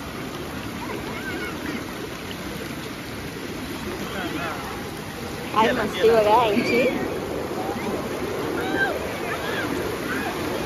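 Fast waves rush and crash steadily on a Konkan beach as light rain begins, a continuous broad wash of surf that swells briefly midway, with people talking over it throughout.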